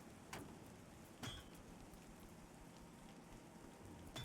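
Steady, soft rain hisses continuously in the video game Pantheon: Rise of the Fallen, with a couple of brief clinks, fairly quiet and without voices.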